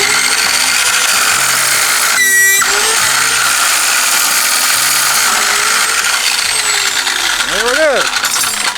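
A small, inexpensive cutting tool working through quarter-inch stainless steel tubing, giving a continuous high mechanical whir and rasp with a short, harsher burst partway through and a whining sweep near the end.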